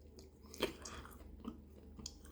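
Close biting and chewing on hard dried beef jerky: a sharp crunchy bite followed by a few quieter, dry chewing crunches in a quiet room.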